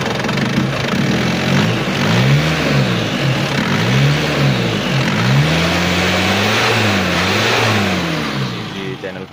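Isuzu Panther 2.5-litre turbo diesel engine running and revving, a rough steady clatter with repeated rises and falls in pitch, close and loud throughout.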